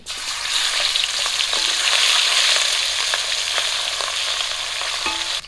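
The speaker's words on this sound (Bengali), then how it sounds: "বাকি মাছগুলো আমি একই রকম করে ভেজে নেব।" Catfish pieces fry steadily in hot oil, a loud, continuous hiss of sizzling with faint occasional clinks and stirring, heard close and alone.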